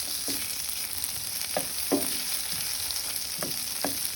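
Vegetables for a creamy veg kadai fry in a kadai with a steady broadband sizzle, and a few soft stirring scrapes punctuate it at irregular intervals, close and moderately loud.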